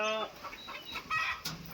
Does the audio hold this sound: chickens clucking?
yes